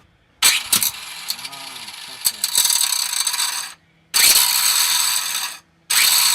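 A power saw cuts out a stripped bolt during a transmission job on a Nissan S13, heard as loud, harsh, sustained rasping in three long bursts separated by brief pauses, with some faint clanking at the start.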